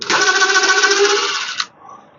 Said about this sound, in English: I'm taking these bolts out